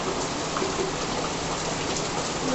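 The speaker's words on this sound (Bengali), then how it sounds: "কেমন ঝরঝর করে বৃষ্টি হচ্ছে" Heavy afternoon rain falling hard in a constant, even roar, close and unbroken, with no one speaking.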